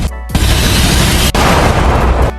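A loud, sustained burst of gunfire in a dramatic film scene of an Indonesian school brawl, a dense blast filling more than two seconds with a brief break midway, heard alone without voices.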